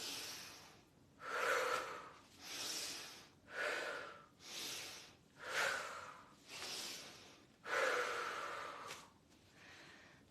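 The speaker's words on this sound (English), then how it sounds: "take a deep breath in. Breathe out here, stay." A person breathes deeply in and out during a slow cleansing movement exercise, about eight long, breathy inhales and exhales in an even rhythm, close and quiet with no talk.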